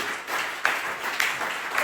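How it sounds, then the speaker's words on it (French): Congregation at a French-language church service clapping, moderately quiet, with a few sharper claps standing out over a steady patter and some faint voices underneath. "Applaudissez le Seigneur Jésus."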